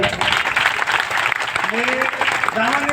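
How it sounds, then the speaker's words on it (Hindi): Audience applause at an outdoor gathering, loud and continuous, with a voice talking over the clapping partway through. "कृष्ण लाल के मूड के लिए जोरदार तालियां।"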